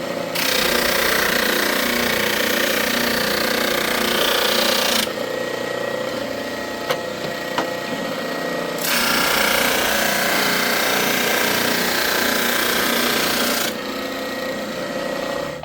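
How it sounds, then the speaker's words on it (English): A drum sander takes wood for a refurbished heirloom cradle down to final thickness: a loud, steady abrasive roar in two long passes, each stopping abruptly, with a quieter motor hum between them. "I'm going to use the drum sander to bring it down to my final thickness."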